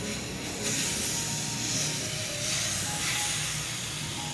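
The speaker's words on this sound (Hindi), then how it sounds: "तवा हमने गरम कर लिया है और अभी हम इसके ऊपर घी नहीं डालेंगे, सिर्फ कलेजी ऐड करेंगे।" Marinated liver (kaleji) sizzling on a hot tawa griddle without ghee, a continuous loud frying hiss with steady crackle and no talk over it.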